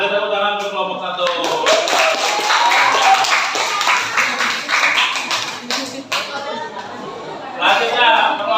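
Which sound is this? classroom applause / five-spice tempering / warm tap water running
classroom applause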